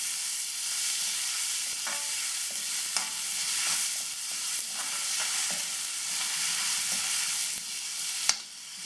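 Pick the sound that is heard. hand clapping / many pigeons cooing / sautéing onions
sautéing onions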